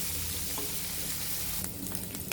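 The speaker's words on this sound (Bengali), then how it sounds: "এখন চিংড়ি মাছগুলো ভেজে দিব।" Shrimp fry in a wok with a little white oil, giving a dense, loud close sizzle that crackles and spits more sharply toward the end.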